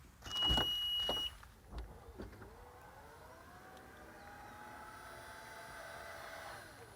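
The power hands-free tailgate of a 2020 Honda CR-V Hybrid Touring opens. A short burst of clunks and a tone comes first, then a soft, steady electric motor whir that rises gently and holds for several seconds.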